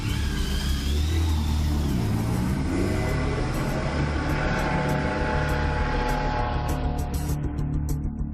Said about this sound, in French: on se met à 20 km/h au-dessus de la limitation de vitesse pour gagner un tout petit peu de temps